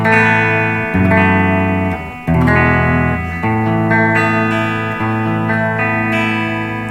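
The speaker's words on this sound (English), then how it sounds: "without anything, just clean" Clean electric guitar played through an Orange Crush amplifier with no effects, sustained chords ringing out loud and alone, re-struck every second or so with brief gaps between strums.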